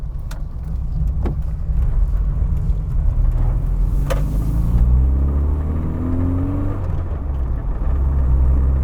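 A tiny 830 kg MG Metro with an A-Series engine accelerates steadily, its engine note rising in pitch as the revs climb, heard continuously from close by over road rumble with no talking.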